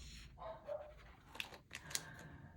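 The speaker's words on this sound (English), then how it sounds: "My little dog is barking" A small pet dog barks faintly in the background, a few short, soft yips spread across a quiet room with no talking.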